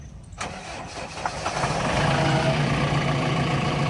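A Mahindra Arjun Novo tractor engine cranks and catches, then settles into a loud, steady, close diesel idle with a continuous rumble.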